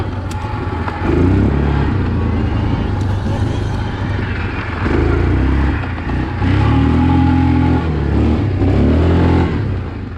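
Engine of a 2020 Yamaha Kodiak 450 EPS ATV pulling hard on a flat road, a loud, steady drone that surges in pitch in several waves as it accelerates, with rushing wind noise throughout.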